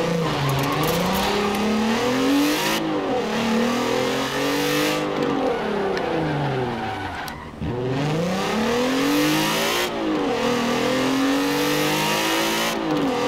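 Volkswagen Golf MK4 engine in the Forza Horizon 4 racing game, repeatedly revving up through gears with rising and falling whine, a brief dip near the middle, loud and continuous with no talk.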